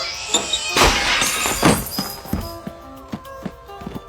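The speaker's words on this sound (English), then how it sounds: "a sudden sound of glass shattering filled the room" A glass coffee table surface shattering in a room, a sharp loud crash followed by scattered tinkling fragments settling and fading.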